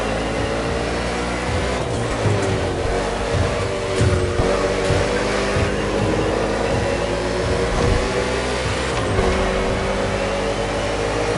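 NASCAR stock cars racing through an urban Honolulu street circuit in The Crew Motorfest, a loud, constant engine drone with repeated revving and shifting as the cars push on together, no talk.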